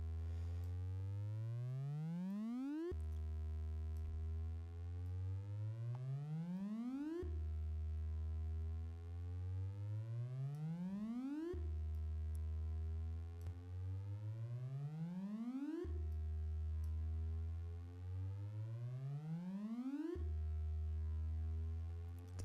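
Synthesized cinematic riser built in Reaktor: a loud, rich tone sweeping steadily upward in pitch, repeating about five times, each rise cutting off and restarting.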